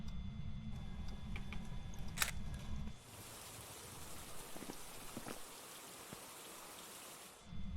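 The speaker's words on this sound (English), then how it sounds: "I apologize for the rain effect," Steady rain in the Phasmophobia ghost-hunting video game, a soft hiss of falling drops that sets in partway through over a low hum, with a few brief clicks, quiet overall.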